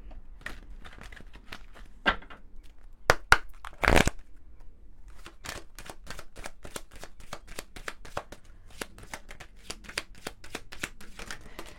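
An oracle card deck being shuffled by hand, with quick papery riffles and flicks, a short burst of rapid card snaps in the middle, then a steady run of crisp individual card strikes.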